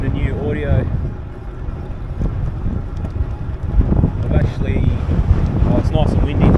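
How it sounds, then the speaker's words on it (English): Heavy wind buffets the microphone during a road ride, a loud, continuous rumble with gusty surges, and faint bits of a voice come through underneath. "It's nice and windy today too"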